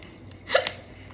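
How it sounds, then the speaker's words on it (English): A single sharp hiccup from a person, close and fairly quiet, rising briefly out of a low, hushed indoor background and fading quickly. "I don't know why I got the hiccups out the blue"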